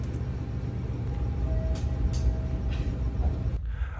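The Serayu passenger train rolls along in a steady low rumble heard from inside, with a faint high whine and occasional brief clanks, until the noise drops sharply near the end.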